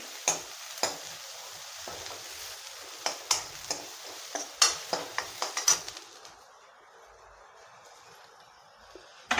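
Onions frying in a pan while being stirred on a home kitchen stove, sharp utensil scrapes and clinks ringing out in an uneven rhythm over a steady sizzle during the first six seconds, then the sizzle carries on quietly alone.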